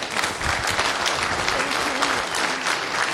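Audience applause after the first talk at a Kubernetes tech conference, a dense, steady wash of clapping from a room full of people, fairly close and filling the whole clip with some murmured voices underneath.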